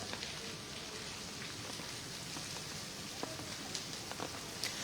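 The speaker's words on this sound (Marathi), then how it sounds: "गेली 4 ते 5 दिवस कोल्हापुरामध्ये मुसळधार पाऊस पडतोय" Heavy monsoon rain pours steadily in Kolhapur, a dense, even hiss of drops on surfaces throughout with occasional sharper splashes, fairly faint and with no voices.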